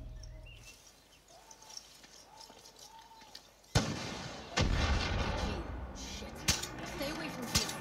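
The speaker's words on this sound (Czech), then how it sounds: "po mně někdo střílí?" Heavy booming gunshots in Far Cry New Dawn, one sharp blast followed by several more scattered reports over a rumbling background, with muffled voices underneath.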